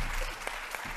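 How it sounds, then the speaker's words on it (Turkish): Audience at a Turkish stand-up comedy show applauds briefly for the comedian, a short, fairly steady burst of clapping that fades out within about a second, with a little background voice mixed in. "Bir moral alkış alabilir miyim?"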